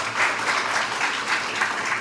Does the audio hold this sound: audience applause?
yes